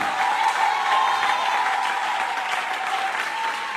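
A church congregation claps and cheers together in sustained, even applause that fills the space without pause.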